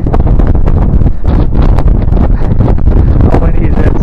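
Strong wind battering the microphone outdoors beside the Mississippi River in winter, a loud, continuous roaring buffet with gusty surges throughout.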